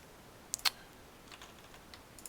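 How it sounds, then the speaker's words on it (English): Sparse keystrokes on a loud non-mechanical computer keyboard, a few sharp close clicks scattered over quiet room tone, with a brief cluster near the start and another near the end. "No, actually I don't have a mechanical keyboard, it's just really loud."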